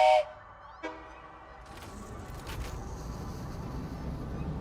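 Train riding along a track in the factory-building game Satisfactory, with a brief whistle-like tone at the start and a steady, moderately loud rolling rumble that builds slightly toward the end, no talking.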